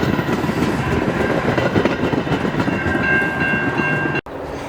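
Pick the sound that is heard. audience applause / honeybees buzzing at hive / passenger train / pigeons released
passenger train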